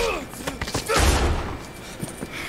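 Gunshots in Red Dead Redemption 2: a cluster of sharp cracks leading into one loud, booming shot near the middle, with quieter pops after it, set among game ambience and background voices.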